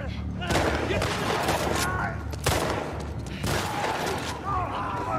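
Gunfire in The Last of Us Part II, several loud shots and echoing bursts spaced across a noisy firefight with a low rumbling background.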